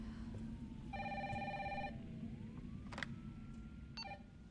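An indoor telephone gives an electronic ringing trill lasting about a second, then two short beeping chirps follow over a low background hum, and no one speaks.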